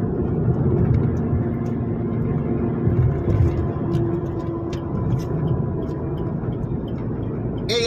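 A car overtakes another vehicle on the road, heard from inside as a steady low engine drone and road rumble that swells slightly during the pass.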